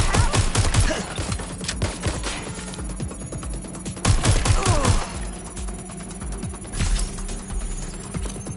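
Gunfire in Watch Dogs: Legion comes as loud, dense automatic bursts in several rapid volleys with brief lulls between them. Harsh sharp cracks dominate the whole stretch.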